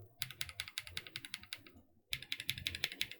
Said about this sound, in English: So with keycaps, the titanium is a lot deeper.